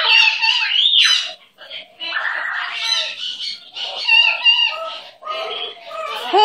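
A pet bird chatters close by, producing a continuous run of raspy squawks, chirps and sharp whistles with only brief gaps.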